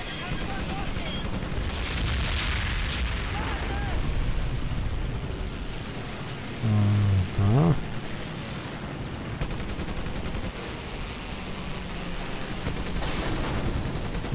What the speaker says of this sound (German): Vielleicht hat jemand eine Bombe auf uns geworfen oder was ist da passiert?